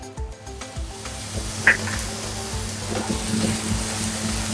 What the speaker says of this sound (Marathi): यामध्ये आता टोमॅटो टाकून घेऊ.